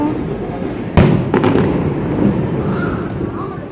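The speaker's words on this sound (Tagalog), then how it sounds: "Ayan na, may fireworks na naman." Fireworks going off at a distant festival: a sharp thump stands out, followed by softer bursts and a rumbling crackle, heard over steady street noise and voices talking nearby.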